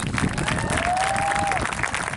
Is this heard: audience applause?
yes